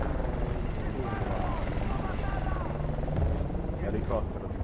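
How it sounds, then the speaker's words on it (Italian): A helicopter in the video game Battlefield: Bad Company thrums with a steady rotor chop and engine drone, loud and continuous under brief game sounds and gunfire. "Elicottero di nuovo"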